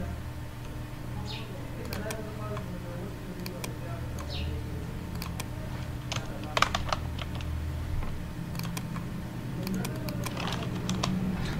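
An address is typed on a computer keyboard in bursts of soft, irregular key clicks, quiet and close, over a low steady room hum.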